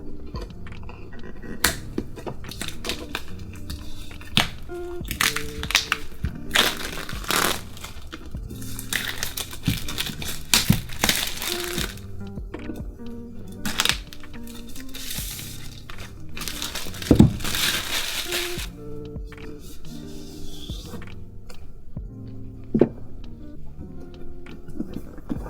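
Packaging for a MacBook Pro 15-inch with Touch Bar and Beats headphones being unboxed, with crinkling plastic, rustling cardboard and sharp snaps and taps, close and fairly continuous, with no talking.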